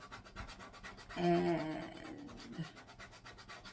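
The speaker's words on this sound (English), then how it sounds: "after I do all the scraping, we'll wipe it off with our chalkboard cleaner" Scraping the chalkboard coating off MDF with a crop-o-dial hole-making tool, a close rubbing, scratchy pass that swells for about a second amid repeated light scraping strokes.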